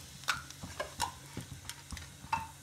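Asafoetida dropped into hot oil in a pan on a gas stove, a faint crackle with a few sharp spoon taps and scrapes against the pan at irregular intervals.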